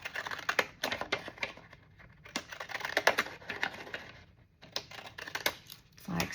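Scallop-edged scissors snip through paper in quick clusters of crisp cuts with short pauses between bursts, close to the listener, with some paper rustling.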